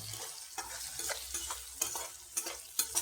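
A spoon stirs turmeric and garam masala into a puffed rice (murmura) mix in a pan for a savoury snack. Steady, repeated scraping strokes run close and clear over a soft sizzle, with no talking.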